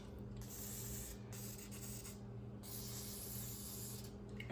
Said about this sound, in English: I'm gonna go ahead and shoot these bolts up with some Croil, give it a few minutes